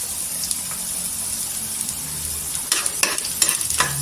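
Garlic tempering in hot oil for Marathi varan gives a steady sizzle, with a few sharper crackles and utensil clinks near the end, close and fairly loud.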